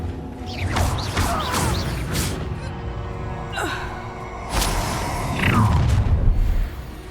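A Bombarda spell blast in Hogwarts Legacy, with whooshing spell casts and booming, crashing impacts amid gasps and battle noise, loud and close, several hits spread across the stretch.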